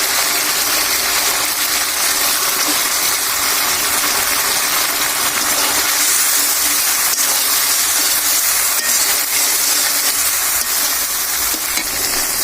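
Fish, a river fish in mustard-style preparation, dropped into hot oil with spice paste, sizzling and hissing loudly and steadily throughout with no talking.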